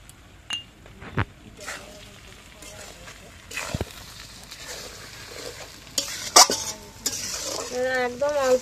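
Chilli pickle with raw green chillies and salt stirred as it fries in a pan, a spoon scraping and clinking intermittently over a soft sizzle, with brief louder scrapes near the end.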